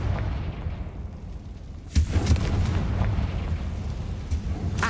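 A Confringo fire spell goes off in the Hogwarts Legacy video game: one sudden loud blast, then crackling bursts and a rumbling tail over a steady low game soundtrack.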